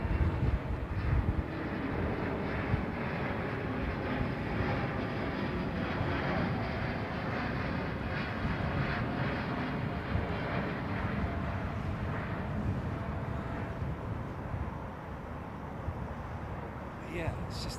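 A departing Iberia Airbus A350-900 jet roars with a steady, loud broadband engine rumble for the full stretch at Heathrow, with people talking over it.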